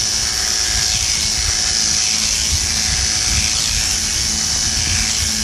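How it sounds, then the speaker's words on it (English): An Oscar A5 electric clipper with a number 7 blade runs on a dog during grooming, giving a loud, steady, close-up buzz that never stops and has no talk over it. "I'm using an Oscar A5 clipper with a number 7 blade."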